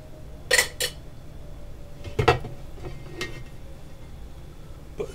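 Seasoned salt is mixed around in a cooking pot for chicken and dumplings, with a few sharp metal spoon clinks against the pot separated by quieter moments.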